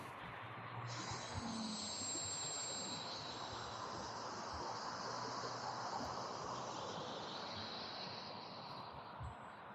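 Sustained high-pitched whine of an E-Flite Conscendo Evolution electric RC plane on a 4S battery buzzing overhead, steady and fairly loud over a broad rushing noise.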